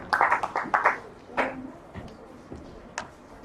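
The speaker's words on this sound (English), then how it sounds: "Please, a round of applause as I invite Dr. Zamani Henry as she gives her welcome remark." Brief, sparse handclapping in a room as the Zamani Foundation executive director is invited up, a few bursts of claps in the opening second and scattered single claps after, fairly close and light.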